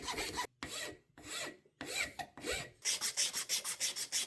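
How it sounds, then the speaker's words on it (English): Hand file rasping over a forged sgian dubh knife blade, slow separated strokes at first, then a quicker run of even, rhythmic scrapes, close and fairly quiet. "I chose to make things harder on myself, so I wanted to use a file"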